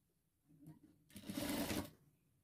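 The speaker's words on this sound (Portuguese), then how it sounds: "vou costurar." A sewing machine stitches bias binding onto a handmade handbag in two bursts, a short run and then a longer, louder one, heard up close in a quiet room.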